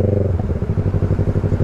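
A Yamaha MT-03 motorcycle revs hard while accelerating on the highway, giving a loud, close, rapidly pulsing engine rumble that keeps a steady rhythm.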